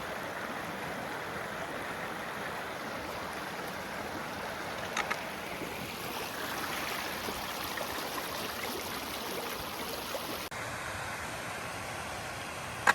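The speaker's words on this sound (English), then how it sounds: "Pretty cool here with the water cascading with the massive waterfall in the background" Water cascades steadily near a massive waterfall on the Cape Wrath Trail in the Scottish Highlands, a dense, continuous rushing roar that stays even and close throughout with no talking.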